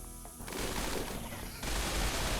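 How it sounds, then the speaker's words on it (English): Automatic gun turrets fire steady bursts in the video game RimWorld, growing louder and denser partway through as more turrets join, with no voices. "And now the other turrets are opening up."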